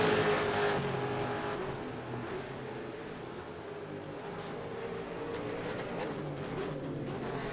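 V8 Supercars race cars lapping Barber Motorsports Park in Alabama during a World Cup round, a steady loud engine drone with a high whine that slowly shifts pitch as cars pass, no voices over it.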